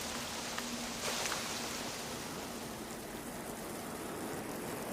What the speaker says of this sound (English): And this is how the first rain in our planet's history began.